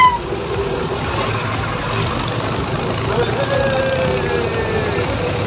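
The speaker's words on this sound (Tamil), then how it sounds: "நான் டிராக்டர்ல போயிட்டு இருக்கேன்." A heavy tractor engine rumbles steadily while riding, with broadband road and mechanical noise and faint voices in the background.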